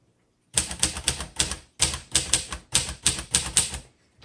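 Rapid close-up key strikes on a 1957 Royal Quiet De Luxe manual typewriter, muted in tone, clatter in an even, rolling rhythm, with one brief pause before the clacking resumes.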